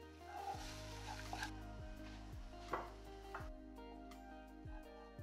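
Spices and onions sizzling in a hot pan while being stirred and caramelized for falafel, a steady frying hiss with a few scraping stir strokes, over a low background hum.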